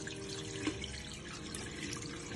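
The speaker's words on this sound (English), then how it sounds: "you use your hand to drain the water off for whatever rice fall out of the basin" Rinse water from washed rice trickles and splashes steadily as it is drained off a basin by hand, a continuous soft watery patter at low level.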